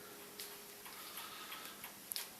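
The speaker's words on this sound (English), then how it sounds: "It's a mantel clock, but I've got it on top of my fridge." A vintage Bakelite Smiths Enfield mechanical mantel clock, set on top of a kitchen fridge, ticks in a steady faint rhythm, close and quiet with nothing else heard.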